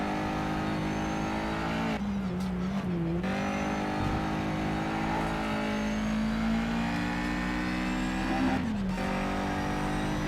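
A racing car engine in Need for Speed Shift 2 Unleashed on PS3 drones steadily at high revs, with two brief gear-shift dips and a hint of tire squeal, loud and continuous without talk.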